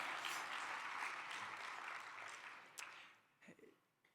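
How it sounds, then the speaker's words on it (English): Faint, distant audience applause at a fundraising event, a steady wash of clapping that slowly thins and fades out, with a few stray sounds as it dies away. "Now we got applause."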